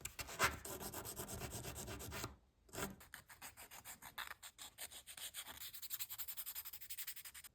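Sandpaper rubs a thin wing profile cut from ice cream stick wood in quick, close scratchy strokes, with a short pause partway through and then a rhythmic, evenly paced back-and-forth rasp.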